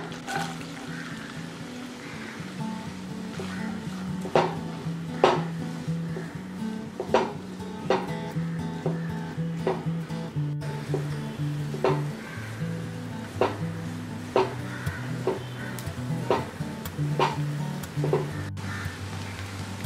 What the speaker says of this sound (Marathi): तेल, बटर छानपैकी मेल्ट होऊ देऊया। आपण 2 मध्यम बारीक चिरलेले कांदे घालूया।